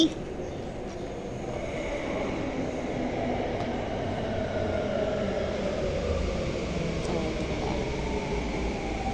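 An MRT metro train rumbles into the station with a steady low roar and faint rising whine, continuous and fairly close, with distant voices in the background.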